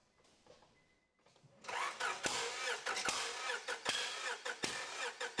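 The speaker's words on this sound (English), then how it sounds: "Crank the engine." A car engine cranks over during a cylinder compression test, beginning after a quiet start and then running as a loud, rhythmic chugging of starter pulses that stays close and steady to the end.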